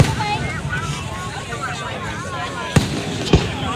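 Fireworks heard from a crowd, with two sharp distant bangs late on, set against steady wind rumble and chattering voices nearby.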